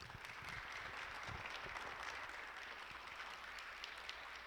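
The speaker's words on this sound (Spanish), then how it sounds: "Recibamos al doctor en ciencias Jorge Adrián con un aplauso." An audience welcomes a doctor of science to the stage before a prostate cancer talk, applauding steadily at a moderate level, with dense clapping spread through the room and no voices over it.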